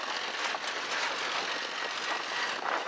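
A tractor engine runs steadily in rural northern Ghana, a continuous broadband drone at moderate level with no distinct revving or pauses.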